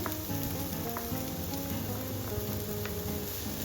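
Shredded cabbage and capsicum sauté in a pan for a vegetable sandwich filling, giving off a steady, quiet sizzle that runs unbroken with a few faint clicks of stirring.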